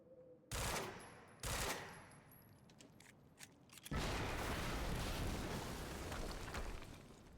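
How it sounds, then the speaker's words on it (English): Explosions and bursts of gunfire erupt in the video game Quantum Break, with two sharp blasts followed by a sustained roaring barrage that stays loud to the end. "we just heard an explosion near the harvesting perimeter"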